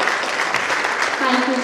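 Audience clapping at a preschool annual function, a brief burst of steady applause with a voice speaking over it toward the end.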